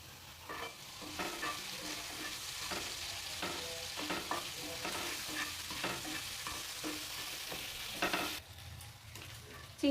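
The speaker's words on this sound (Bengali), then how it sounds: "চিংড়ি মাছটাও ভেজে নেব।" Prawns fry in hot oil, seasoned with a little salt and turmeric, giving a steady close sizzle broken by repeated stirring and scraping, with no speech.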